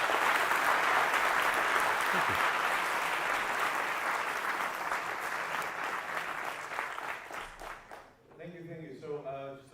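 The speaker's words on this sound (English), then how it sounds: "Let's have a round of applause for Richard." Sustained applause from a conference audience at CfgMgmtCamp, dense and steady for about eight seconds before fading, after which someone speaks briefly.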